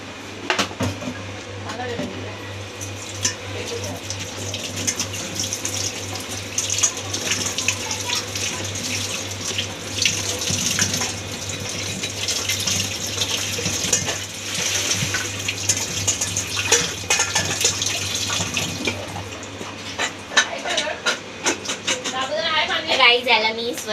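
Okra (bhindi) is rinsed under a running kitchen tap, with steady gushing water and splashing throughout, some handling clatter near the end, and a speaking voice over it.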